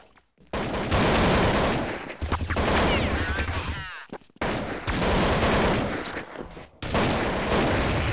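Bursts of rifle fire from Counter-Strike 1.6 on the de_nuke map crack out in loud, dense volleys separated by brief gaps, with players talking over the shooting.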